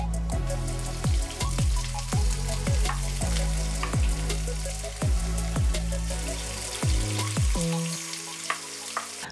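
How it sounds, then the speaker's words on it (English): Onions fry in a pan with a busy, close sizzle and crackle that runs the whole way through, along with a series of short sharp knocks and stirring sounds. "That lovely sizzle."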